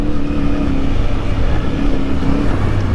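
A CFMoto 450MT motorcycle engine revving under throttle while riding, a loud, steady drone with a rough low growl and a rising-and-falling tone, heard close over continuous wind rush.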